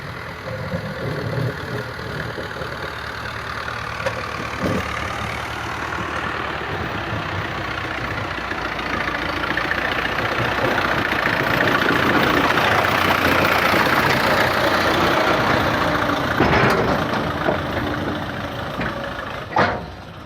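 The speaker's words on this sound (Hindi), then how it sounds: "ये देखे दूसरी साइड पे भी ट्रैक्टर लगा हुआ है" A heavy tractor engine idles steadily and close by through the whole stretch, a continuous low rumble at a worksite with heavy machinery, with no talking over it.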